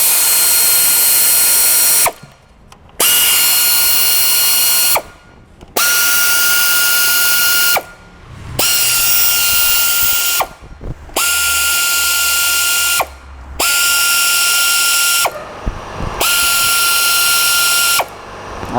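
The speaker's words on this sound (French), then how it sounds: "Et là je vais m'approcher tous les boulons. Et après je vais les serrer au couple." A power tool runs bolts into the timing cover of a Peugeot 208 PureTech during a timing belt replacement. Seven or eight steady, loud whirring runs of a few seconds each are separated by brief silences, and nobody speaks.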